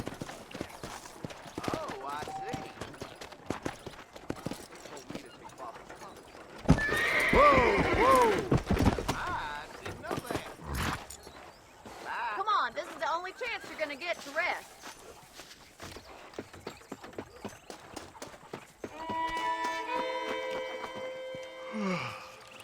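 Horse hooves clip-clopping during riding in the Red Dead Redemption video game, a steady rhythmic gait with a loud whinny midway, running under and between spoken dialogue.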